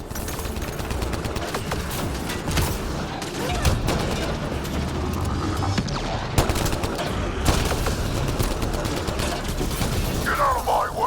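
Sci-fi gunfire in Mass Effect: Andromeda rattles in rapid, dense bursts with sharp cracks and heavy booms over a constant combat din, loud and close throughout.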